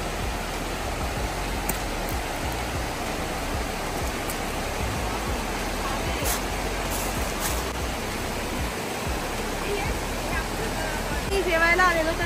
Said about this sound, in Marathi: तर त्या साईडला मी तुम्हाला म्हटलं पाणी येत आहे, असं सगळं पाणी आहे